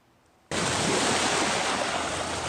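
Ocean waves wash onto the shore at Xiaoliuqiu beach in Taiwan, a loud steady surf roar that surges in abruptly after a brief quiet moment and continues unbroken.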